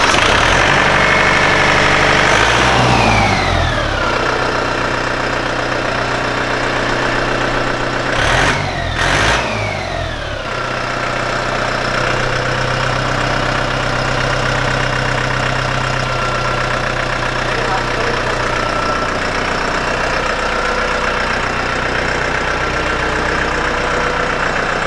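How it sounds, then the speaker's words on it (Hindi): A Solis Yanmar tractor engine cranks and catches, then settles into a steady, loud diesel idle with a continuous low rumble close by and no talking. "अभी हम इसको आपको स्टार्ट करके दिखाएंगे और इसकी अगर आप आवाज़ देखोगे तो बड़े ही शानदार इसकी आवाज़ है।"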